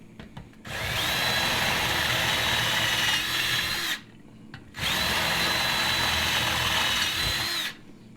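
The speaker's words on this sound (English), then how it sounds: "I'm going in with the 5/16 bit." A power drill with a 5/16 bit bores into a phone camera jig, running in two steady, loud whining bursts of about three seconds each with a short pause between them.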